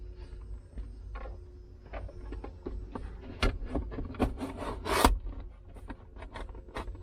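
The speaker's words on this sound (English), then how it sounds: "now we can slide the new armrest on" A new plastic armrest slides onto its adapter plate inside a GR Corolla, giving scattered close rubbing, scraping and clicking sounds with a few sharper knocks, no talking.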